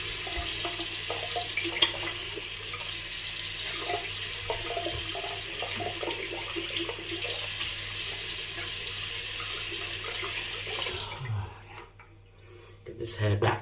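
Water tap running into a sink while a shaving brush is rinsed, a steady close splashing gush that stops near the end, followed by brief handling noise.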